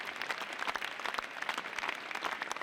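A theatre audience at the 2021 Cannes Film Festival gives sustained, dense applause for the Annette team, steady and fairly loud throughout with no pauses.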